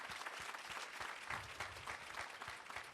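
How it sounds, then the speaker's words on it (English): Steady round of applause from a meeting audience, fairly quiet and continuous throughout with dense overlapping claps and no talk. "give you guys a round of applause"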